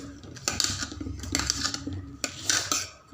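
A spoon stirs steadily in a bowl of vegetarian omelette batter with coriander leaves and onion, clinking and scraping against the sides in quick, uneven strokes.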